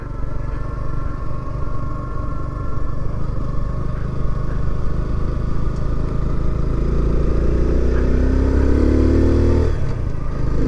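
A 2024 Kawasaki Z125 motorcycle engine hums steadily while riding during break-in, its pitch climbing toward the end as revs rise, close and continuous with wind rumble and no talking.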